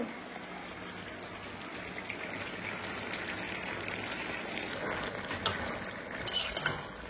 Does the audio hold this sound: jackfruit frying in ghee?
yes